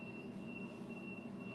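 Steady low rumble of a passenger train in motion near Toongabbie, Australia, with a faint sustained high whine running through the ride.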